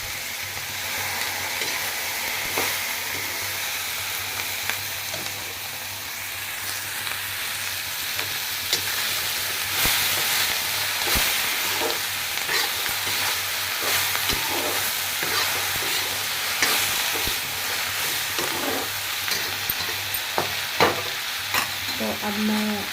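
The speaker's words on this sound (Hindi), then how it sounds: "तो ये मैंने छोड़ दी है अपनी भिंडी की सब्ज़ी।" Okra curry (bhindi sabzi) sizzles and fries steadily in a pan, a continuous close crackle with occasional stirring scrapes and no talking.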